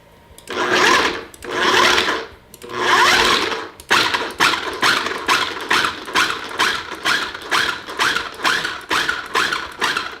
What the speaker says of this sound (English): Close the food processor, and we're going to pulse.